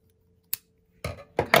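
Scissors snip the yarn end of a crochet striped heart hot pad: one sharp close snip followed by a couple of quick rustling cuts and clicks, with near silence in between.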